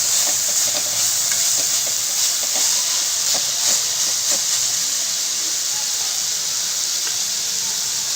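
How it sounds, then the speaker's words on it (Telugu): Mint leaves and tamarind frying in a pan for chutney give a steady, close hiss and sizzle with faint stirring scrapes throughout. "ఇలా ఆకు దగ్గరికి అయ్యే వరకు వేయించుకోవాలి"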